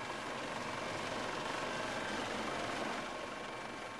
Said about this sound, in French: L'hélicoptère repère 2 embarcations suspectes et surtout une échelle de pirates.